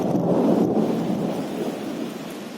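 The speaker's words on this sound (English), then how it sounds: "You can hear the thundering." Thunder rumbling through heavy rain in the mountains near Bumla Pass, Tawang, a loud low roll that swells early and slowly fades under the steady rain hiss.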